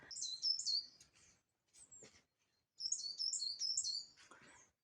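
A small bird chirps and twitters in bright, rapid bursts close by in a large walnut tree beside a house, with a short pause between two lively phrases.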